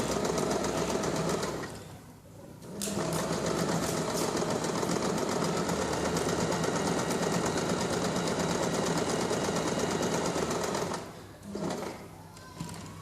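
A sewing machine zigzag-stitches fabric edges in a fast continuous mechanical rattle, pausing twice briefly before resuming, close and steady.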